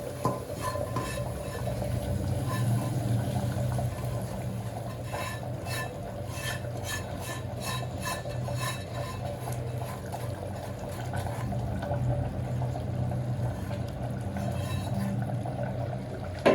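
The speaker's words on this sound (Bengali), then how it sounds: "সব ঢেলে দিব এখন নেহারির তরকারির ভিতরে।" A mixture goes into a pot of beef nehari curry, followed by stirring with light clinks of a spoon against the pot over a soft bubbling background, close and continuous without speech.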